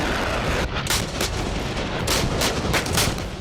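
Gunfire and artillery from attacks on Hamas and Hezbollah, heard as dense, loud overlapping bursts and booms in a continuous rumbling barrage, with no voices.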